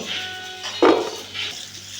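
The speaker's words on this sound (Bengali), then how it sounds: "তো আমি ভালো করে কুলগুলোকে ধুয়ে নিই" Jujube berries being washed by hand in a bowl of water give one brief, close splash and clatter midway, with quiet surroundings before and after.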